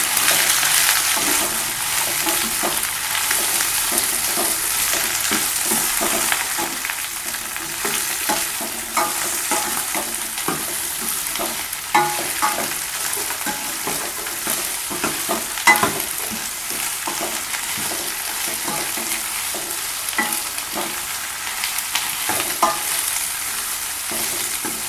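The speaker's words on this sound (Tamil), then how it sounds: "கத்திரிக்காய், அவரைக்காய், கேரட்டு, முருங்கைக்காய், காயெல்லாம் போட்டு லைட்டாக வதக்கி விட்டுக்கலாம்" Brinjal, beans, carrot and drumstick sautéed in a pan for a mixed-vegetable sambar: continuous bright sizzle with frequent close scraping and clicking as the spoon stirs, steady throughout.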